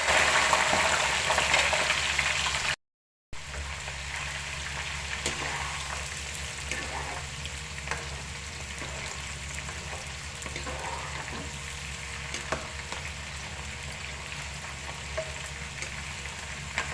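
Nimko dough frying in hot ghee, a steady, close crackling sizzle that continues throughout, with a brief dropout early on and no talking.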